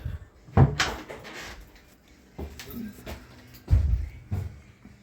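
Pantry cabinet doors in a butler's pantry swinging open and shut, two distinct rounds of wooden thumps and knocks with softer rattles between, close and fairly loud, no talking.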